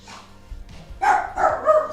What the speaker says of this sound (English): Noisy dogs.